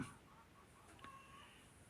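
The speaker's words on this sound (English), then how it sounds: "listen to the chickens next door squawking" Chickens squawk and cluck faintly in the distance next door, heard through a slightly open glass door, a few scattered calls over a quiet, steady background hiss.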